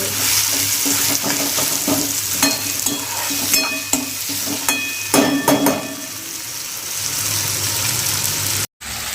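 Tomatoes and onion fry in hot oil in a pan, giving a steady, close hiss with scattered spatula scrapes and clicks throughout and a brief dropout near the end.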